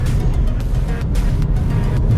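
Skoda Kushaq 1.0 TSI automatic picking up speed toward 100 on the road, a steady loud low engine and road rumble filling the cabin with no break, no talk over it.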